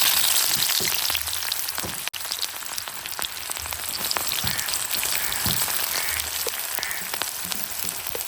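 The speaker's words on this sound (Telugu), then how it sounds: "ఫస్ట్ అయితే మనం ఏం చేయాలంటే ఉల్లిపాయ పచ్చిమిర్చి అన్నది వేసుకోవాలండి" Chopped onions and green chilies fry in hot oil, a dense, continuous crackling sizzle that stays even and fairly loud from start to finish, with no voices.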